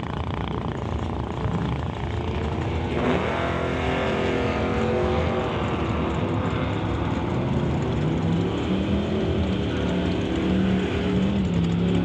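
Drag racing cars, including a Dodge Dart, launching at an NHRA Summit ET bracket race, a loud engine roar swelling around three seconds in and sustained, raspy and continuous, with crowd and track ambience beneath.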